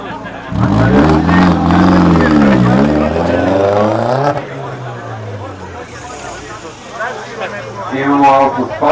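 Alfa Romeo Spider engine revving through its exhaust at a sound contest, a few rising and falling revs followed by a settling idle and another blip, loud and close, with people talking over it.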